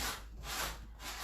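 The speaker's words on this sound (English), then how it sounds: "I think it's very important that I give it a good sand." A couch cushion is hand-sanded before its next coat, giving rhythmic back-and-forth scratchy rubbing strokes, about three passes, close and steady with no talking.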